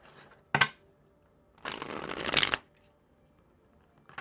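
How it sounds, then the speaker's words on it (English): Tarot cards are shuffled nearby: a quick riffle snap, then a longer rapid riffle lasting about a second, in an otherwise quiet room. "it doesn't want to shuffle for me"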